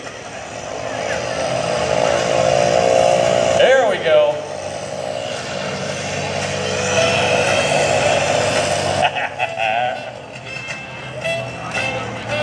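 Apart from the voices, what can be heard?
P-51D Mustang Merlin engine roaring during airshow pass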